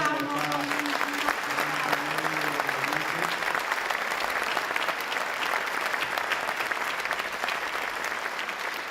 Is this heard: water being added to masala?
no